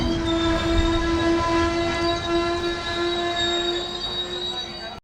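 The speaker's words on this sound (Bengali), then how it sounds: "পিছন দিকে দেখতে পাচ্ছি বিশাল ট্রেন ছেড়ে দিয়েছিল" A train pulls out of Barrow railway station with a loud, sustained tonal horn and squealing wheels over rumbling carriages, close by and continuous, fading slightly at the end.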